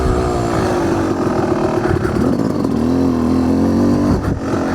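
A dirt bike engine revs steadily while being ridden backwards, a loud close drone with shifting pitch that rises and falls across the whole stretch, briefly dipping near the end.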